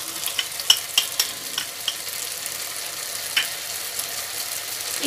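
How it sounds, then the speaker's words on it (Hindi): Spice masala with turmeric powder fries in oil in a pan for palak paneer, a steady soft sizzle broken by several sharp scraping strokes of the spoon, close and moderate, with no voices. "देखिए हमारा मसाला थोड़ा थोड़ा भुनने लगा है, ये हल्का सा ऑयल साइड से आने लगा है"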